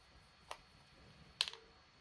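Screwdriver tightening a screw on a Tamiya Manta Ray model kit: two brief, faint clicks, then a slightly louder cluster of three quick ticks over a quiet background.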